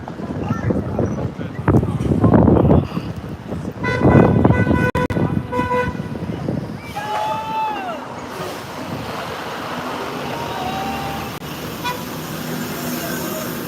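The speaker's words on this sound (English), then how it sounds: "He give you a little honk there." A short vehicle horn toot sounds over steady wind and surf-like outdoor noise, with a couple of brief tonal beeps mid-clip.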